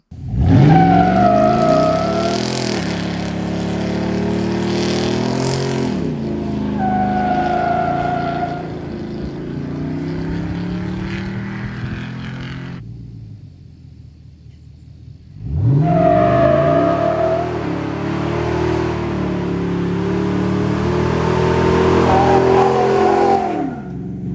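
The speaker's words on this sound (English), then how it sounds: "happy to report the Recon Grapplers do a nice smoky burnout" A Chevrolet Silverado pickup on Recon Grappler tires does a smoky burnout, the engine revving loudly in repeated rising surges with a short near-silent gap before the final hard, sustained rev.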